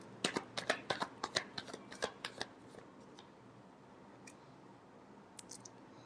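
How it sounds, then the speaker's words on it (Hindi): Tarot cards being shuffled in a rapid run of crisp riffling slaps that fades out, followed by a few soft scattered taps, close and quiet. "Last shuffle."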